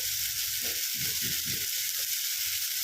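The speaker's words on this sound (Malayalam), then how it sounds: "അത് നമുക്ക് എണ്ണ ഒഴിച്ച് വഴറ്റിയെടുക്കാം" Vegetables for a sambar cheera curry sauté in oil in a pan, a dense, even hiss of frying with a few soft stirring rustles underneath and no voices.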